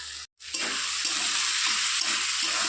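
Flat beans sizzle in mustard paste in a wok, a dense close frying hiss that drops out for a split second, then resumes steadily with soft stirring scrapes.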